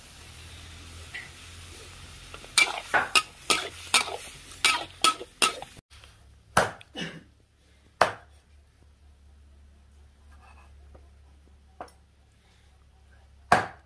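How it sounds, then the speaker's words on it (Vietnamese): Buffalo tripe stir-fried with starfruit in a home kitchen: a run of sharp utensil clacks and scrapes against a pan, spaced strikes and stirs over a low steady hum, with no talk. "Lòng trâu xào khế mà người ta nói."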